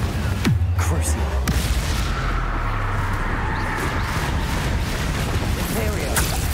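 Confringo blasting spell explosions go off in the video game Hogwarts Legacy as deep booms and rumbling blasts that layer into a loud, sustained barrage with some speech mixed in.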